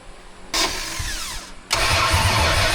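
A starter cranks the small-block engine of a 1974 Dodge Dart Swinger, in two loud bursts of turning with a short quieter gap between them, close by and with no talking.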